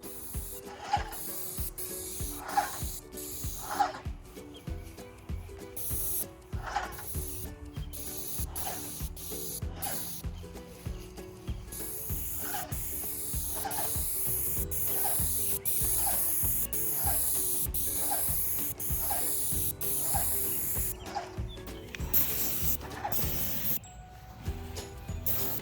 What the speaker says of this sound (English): Here is the paint that we ended up going with to spray the tables with.